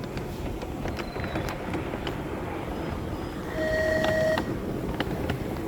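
A train at Burnaby train station rumbles steadily at a distance, with faint rail clatter and brief high squeals from the wheels midway through; no talking.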